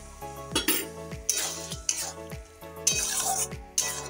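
Chilli paneer sizzles in a pan after cornflour water is added, stirred with a spatula that knocks and scrapes the metal in a steady rhythm of sharp clanks over continuous frying hiss.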